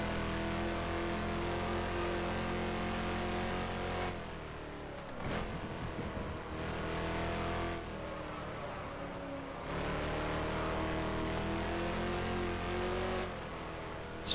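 A Lola T70 race car from the 1970 World Sportscar season roars around the Solitude circuit in the rFactor racing game, its engine droning steadily with rising and falling revs and brief lifts between gear changes.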